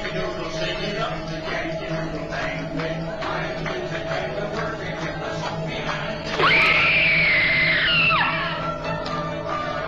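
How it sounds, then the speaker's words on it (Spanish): A person's final scream in a played horror clip from Disney World rises sharply mid-way, a loud sustained high wail of about two seconds over a noisy, clattering background. "Es el grito final de una persona."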